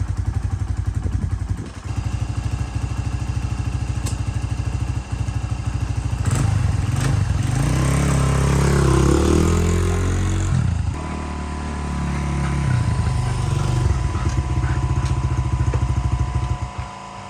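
A rebuilt engine runs continuously as it warms up, loud and close for the whole stretch, with a steady throbbing drone and a few clattering knocks. No one speaks.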